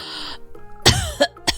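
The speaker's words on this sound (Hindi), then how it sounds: "एक दिन उसके पापा बिस्तर पर लेटकर जोर जोर से खांसने लगते हैं।" A man lying in bed coughs loudly in a short series of three or four harsh, spaced bursts, with a throaty rasp, close and alone.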